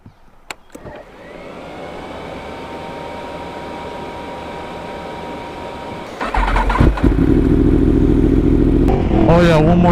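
Yamaha R1 sport motorcycle rated at 193 hp, ridden with a quick shifter: a steady engine drone climbs in pitch, then grows louder and rougher as it revs through clutchless upshifts, with wind buffeting and a brief voice.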